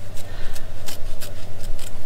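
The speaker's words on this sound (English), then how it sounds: "A pair of scissors and carefully cut around" Scissors snip through a Hanna reagent B sachet in short, close, crisp cuts, about seven in quick succession over a faint steady hum.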